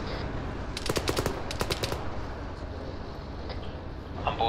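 Automatic gunfire in the military video game Arma: several rapid bursts of shots in quick succession, fairly close and loud, followed by quieter scattered distant shots over a constant background rumble.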